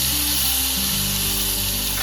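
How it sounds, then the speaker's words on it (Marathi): Drumstick pods frying in a ladle of oil with turmeric, asafoetida and garlic-ginger paste, giving a steady close hiss and sizzle with faint low rumbling underneath and no talking. "शेवग्याच्या शेंगाची फ्राय करते, त्याच्यासाठी मी 1 पळी तेल टाकलेलं आहे"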